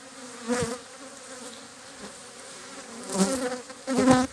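Honey bees drone steadily around an opened hive frame box, a continuous buzzing swarm with louder swells as bees pass close, and no talk over it.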